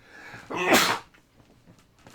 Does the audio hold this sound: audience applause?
no